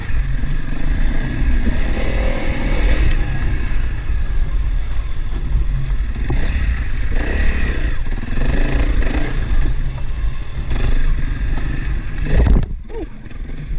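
Honda CRF300L fitted with a 52-tooth rear sprocket rides a wooded trail in third gear, its single-cylinder engine droning loudly and steadily with small throttle swells, then briefly dipping near the end, with no talking.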